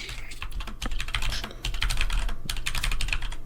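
Rapid, continuous clacking of computer keys, close and steady, with a brief lull before the typing picks up again.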